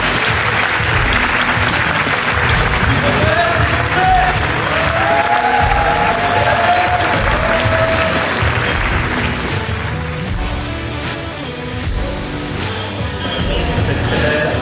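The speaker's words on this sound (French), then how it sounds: "je vais vous demander un tonnerre d'applaudissements pour lui donner énormément d'énergie" A large audience at an 'acheter pour louer' property seminar at Brussels Expo claps loudly as Thibaut de Hertz is welcomed on stage. The dense, sustained applause runs without pause for about fifteen seconds, with some crowd murmur mixed in.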